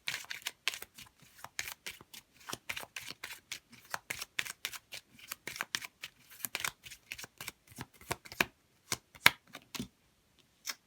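A deck of oracle cards is shuffled by hand close to the microphone, giving rapid papery riffles and soft slaps in irregular bursts that thin out toward the end, with no talking.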